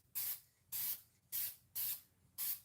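Gold spray paint hissing onto a handmade wooden dough bowl in five evenly spaced bursts of about half a second each, loud and close, with brief quiet gaps between them and no voices.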